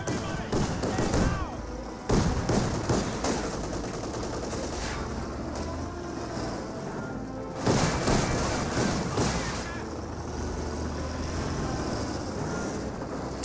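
Mortar and artillery fire in a Company of Heroes 2 battle: repeated heavy thuds and blasts, mixed with machine-gun rattle and rumbling, while a commentator talks over the action.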